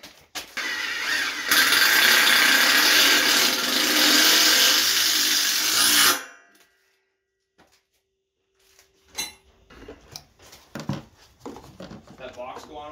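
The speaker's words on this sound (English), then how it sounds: "Just drilling these holes." A power drill whines loudly and continuously for several seconds while drilling holes in parts of a 50-ton forge press, then stops abruptly, followed by quiet clatter and brief voices.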